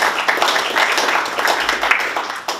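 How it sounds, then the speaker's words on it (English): Applause and clapping from an audience greeting news of an $8 million fiscal-year surplus credited to the governor, a steady dense wash of hand claps lasting throughout at moderate loudness with no clear speech over it. "I think he deserves a round of applause for that"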